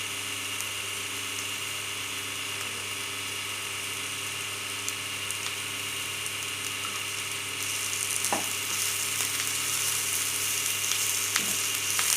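Onions and greens sauteing in a pan for ragi rotti, a steady soft sizzle and frying hiss held evenly throughout, with a few faint scrapes of stirring near the end.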